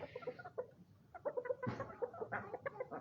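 Chickens running on a farm cluck in short, scattered bursts, fairly quiet, with several birds calling over one another.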